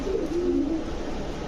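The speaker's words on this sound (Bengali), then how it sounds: "এটা রেসার কবুতর অরিজিনাল" A racer pigeon cooing close up, a single soft, low burbling coo rising and falling, alone over quiet background hum.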